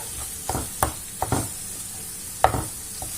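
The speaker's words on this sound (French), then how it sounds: "on va laisser comme ça, mijoter comme ça jusqu'à ce que ça devienne vraiment comme une compotée pendant 10 minutes" Fruit compote simmering in a pan on low heat, with a steady soft bubbling hiss broken by a few distinct scraping stirs of a spoon against the pan.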